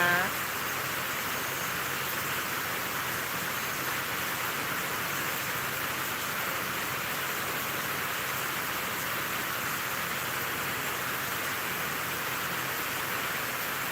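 Heavy rain pours down steadily at a Thai home, a dense, even hiss that holds unbroken and fairly loud for the whole stretch, with no voices on top.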